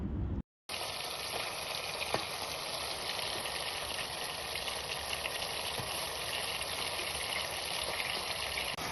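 Steady, even sizzle of pineapple buds, onion and tomato frying in a pan, a continuous low hiss heard close and alone.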